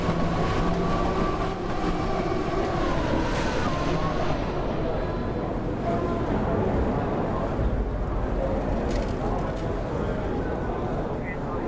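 A train in the Train Sim World game, on the Hauptstrecke Rhein-Ruhr line with an S1 express service, gives off a steady rumbling rail roar with clattering wheel noise throughout, loud and continuous.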